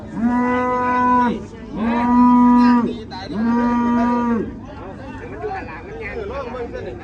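Cattle at a cattle market in Ban Kut Wa, Kuchinarai district, Thailand, give three long, loud moos in succession, followed by fainter animal calls and distant crowd murmur.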